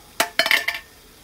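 A lid set onto a cooking pan of ivy gourd chutney, giving a quick cluster of close metallic clinks and a short rattle, then quiet.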